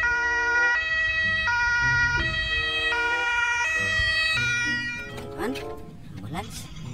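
White toy ambulance siren, a loud electronic two-tone wail alternating in a steady pattern close by, then cutting off as a voice speaks and handling noises follow.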